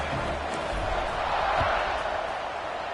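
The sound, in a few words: stadium crowd buzzing in NCAA football video game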